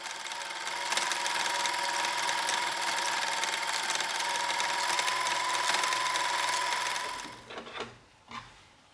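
A sewing machine stitches a basting line across the top of fabric pleats for a child's skirt, running steadily and loudly for about seven seconds before stopping, followed by a few brief handling clicks.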